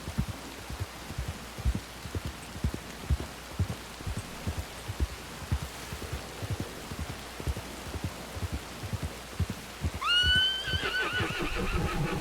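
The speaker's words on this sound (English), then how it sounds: "Sometimes my horse making noise pops my heart up into my throat." Steady soft footfalls tap along rhythmically in a video game, then a horse lets out a loud, close whinny near the end.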